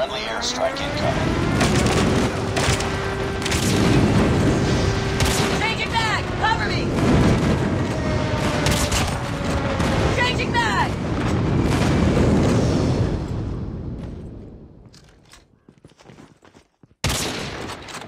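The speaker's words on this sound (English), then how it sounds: "Friendly airstrike incoming." Friendly airstrike explosions boom in a Call of Duty match, with dense, continuous blasts and gunfire rolling for about thirteen seconds before fading to near quiet, then one sharp burst near the end.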